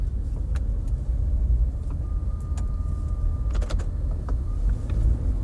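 Interior of a car driving on the road, a steady low rumble of engine and tire noise with faint clicks and a brief thin tone, continuous throughout.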